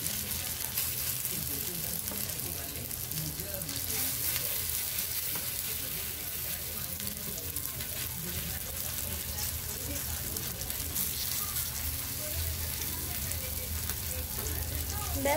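Burger filling fries gently in white oil on low heat, a dense, even sizzle and crackle that holds steady and close for the whole stretch, with a faint voice in the background.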